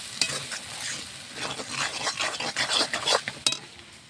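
Leafy greens tipped into hot oil crackle and sizzle in a pan, with a stirring rasp and spitting pops that rise and fall over the few seconds, close and fairly loud.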